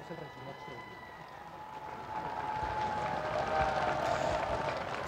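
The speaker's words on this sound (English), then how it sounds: "you hear the crowd welcome him there with applause and song" A crowd welcomes Pope Francis with applause and song as he steps outside the cathedral in Sofia, Bulgaria. Scattered clapping swells into fuller, louder applause partway through, heard from a distance.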